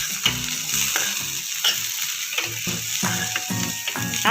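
Vegetables for a fasting-day farali dish stirred in a pan, a spoon scraping and clattering in short bursts over a steady low sizzle, close and fairly quiet with no talk.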